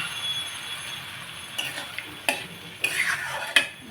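Ginger-garlic-green-chilli paste stirred into fried onions in a pan while cooking a koi fish curry, a few sharp scraping and clinking spoon strokes over a quiet steady background, close and fairly soft with no talking.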